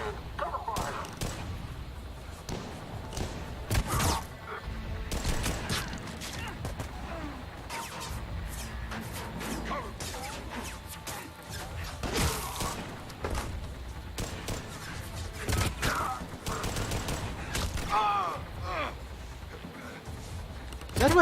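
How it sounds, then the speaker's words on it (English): Gunfire in the video game Mass Effect 3, a long running firefight of bursts and single shots with crashes and thuds, steady and fairly loud, with combat effects and game sounds mixed throughout. "We shoot them with our bullet-shooting guns."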